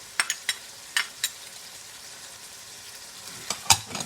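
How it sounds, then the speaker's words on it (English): Green seasoning being stirred into a pot of Guyanese cook-up rice, a spoon giving a few sharp scraping knocks with quieter gaps and a soft simmer beneath, no talking. "I give that a good stir"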